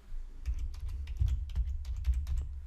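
Rapid typing on a computer keyboard gives irregular light clicks in quick bursts at close range, with a low hum underneath and no talking.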